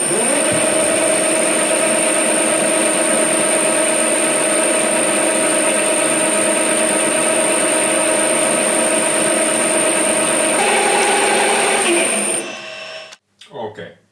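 A lathe center drilling a part for a Stirling engine gives a steady, loud machine whine with a high sustained tone for about twelve seconds, then winds down and stops, leaving brief rattling.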